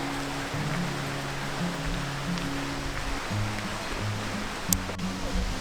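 A waterfall at Yedigöller in a green forest setting, giving a steady, loud rush of falling water with a low droning hum underneath and no talking.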